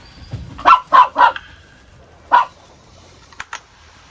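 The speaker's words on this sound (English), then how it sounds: "I apologize for the dogs. They're going crazy." Dogs bark several times in a quick run of three, then once more after a pause, sharp and close, with a couple of faint yips after.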